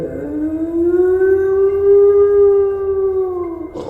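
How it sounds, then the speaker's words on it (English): A dog in a story gives a strange echoey howl, a single loud, long, smooth tone that rises slightly, holds, and then cuts off, heard alone. "Buddy is howling this strange echoey howl"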